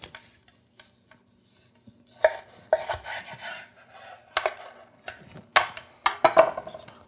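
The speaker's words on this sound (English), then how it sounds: "I'm just gonna cut off one of these chops right from the center" A knife cuts a single chop from the center of a pistachio-crusted rack of lamb: quiet at first, then a run of close crunchy scrapes and soft clicks of the blade and fork against the plate.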